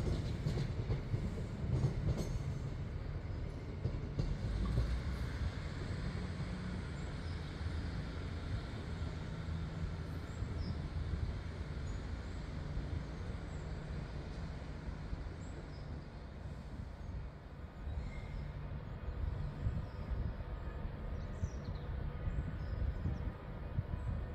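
An Avanti West Coast Class 390 passenger train passes at Preston station, a continuous rolling rumble with rail clatter and wheel noise heard from a moderate distance throughout.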